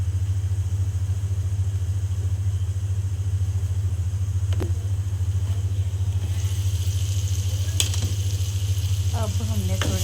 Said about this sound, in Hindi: और इस मसाले को थोड़ा सा हम भूनेंगे